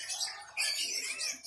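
A female magpie robin gives high, rapid chirping and twittering calls at a Jakarta bird market, two short bursts of song that are fairly close and faint, with no talk over them.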